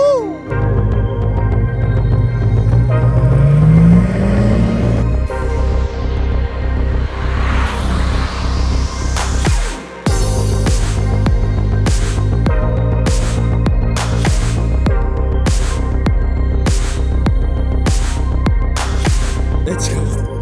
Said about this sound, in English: just go burn all the way out past me again